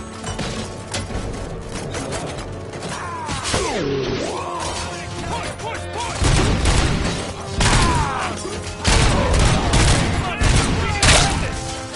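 Gunfire from the video game RoboCop: Rogue City, dense bursts of shots mixed with impacts and crashes, growing louder in the second half, with voices talking throughout.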